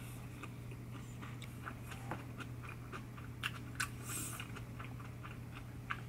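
Crispy air-fried chicken breast, eaten with garlic, is bitten and chewed close up. A run of sharp, irregular crunches repeats under a quiet background, with no talking.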